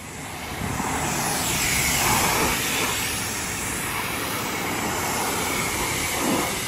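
An Eco Rinse machine rinses down a vehicle with a steady, broad rushing hiss of water spray that holds even and continuous from start to finish at moderate loudness.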